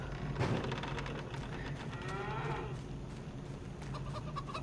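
Cattle mooing in the video game Farm Sim 25, several drawn-out low calls overlapping against a steady background hum, with no talking.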